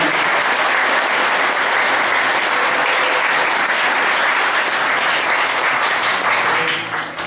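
A group at a youth meditation session applauds, producing a loud, continuous wash of clapping that holds evenly for several seconds before tapering off at the very end.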